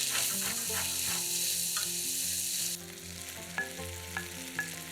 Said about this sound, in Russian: Обжариваем 1-2 минуты.